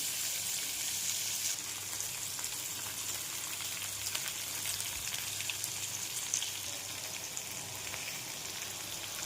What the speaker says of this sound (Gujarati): હવે એની અંદર જે ભીંડા ભૈરા છે ને એ આપણે નાખી દઈશું હવે એને ધીમા તાપે થોડોક ચડવા દઈશું